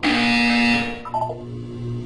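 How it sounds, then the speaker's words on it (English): A loud, harsh electronic buzzer from the Portal 2 video game blares for about a second and then fades, leaving a faint hum. "You will hear a buzzer."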